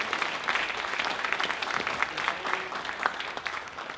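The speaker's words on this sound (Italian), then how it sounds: "Un grande applauso al maestro." Steady audience applause for a maestro at a career award ceremony, a continuous, fairly even patter of many hands clapping at moderate distance throughout.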